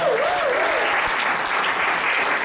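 A crowd at a business presentation applauds World Ventures with loud, continuous clapping, and a brief whistle rises over the start of the ovation.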